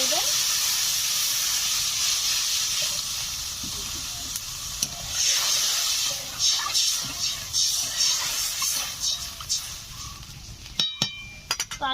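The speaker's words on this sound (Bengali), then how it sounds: "এখন দিয়ে দিচ্ছি পরিমাণ মতো জল" Hot spice paste for rohu fish kalia sizzles as water is poured in, a steady hiss with clinks of a utensil against the pan and a brief sharp clatter near the end.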